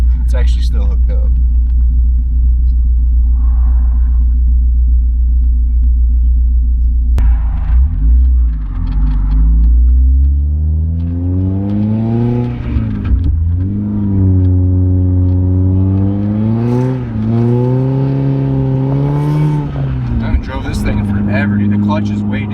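A bagged Mazda Miata NB with a dead battery idles with a jump pack still connected, its low steady rumble climbing into several rising revs, with people talking nearby throughout.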